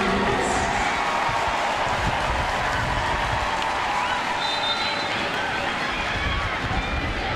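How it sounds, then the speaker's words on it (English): A stadium crowd at an NCAA women's college soccer semifinal between UCLA and Stanford applauds a player as she is substituted off, a broad, distant rumble of clapping and crowd noise that continues under commentary. "Madison Haley getting a round of applause as she is replaced by Sam Tran"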